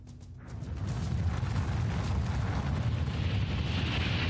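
A huge explosion in Iran, seen in news footage, rolls out as a deep, roaring rumble that swells within the first second and stays loud and sustained, with no voices over it.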